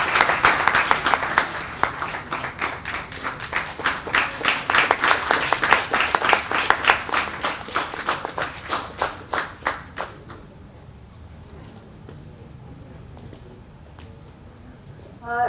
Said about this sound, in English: Audience, please give her a round of applause.